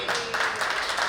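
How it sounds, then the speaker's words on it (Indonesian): Audience applause at a press conference for the PB Indonesia Open badminton fun tournament 2022: a dense, steady wash of many hands clapping, fairly loud and continuous, with no voices over it. "Kalau udah ada Indonesianya tepuk tangan dong."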